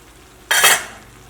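A single short scrape and stir through a pot of Kerala-style chicken curry as it cooks, a brief close burst of stirring between quiet moments, no speech.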